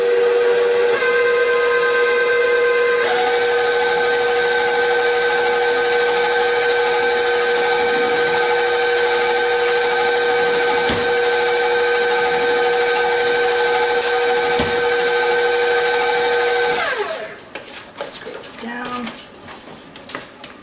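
Electric mixer whirring steadily through zucchini bread batter, a loud constant motor whine holding for most of the time with a brief pitch shift early on, then cutting off into clattering bowl handling.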